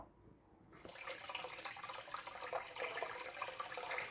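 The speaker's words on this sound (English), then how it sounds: "the siphon kicks in and the water starts coming down, which you can see now" A siphon kicks in on a tabletop aquaponics system and water pours down into the tank. The splash starts abruptly and continues as a close, steady trickling rush.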